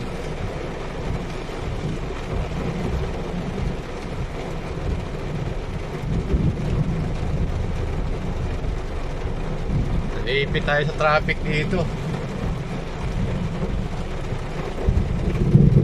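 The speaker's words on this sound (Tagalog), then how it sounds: "Katakot yung kidlat at saka kulog." Heavy rain pours down on a vehicle stuck in traffic in Pasay during a thunderstorm, a constant dense wash with low rumbling beneath, while someone talks over it.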